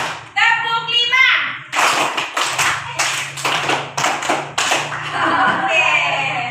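A class of students in an Indonesian school lesson chants together, then claps a rhythmic pattern of sharp, near, loud hand claps in quick sets, ending in a steadier group of claps with voices mixed in.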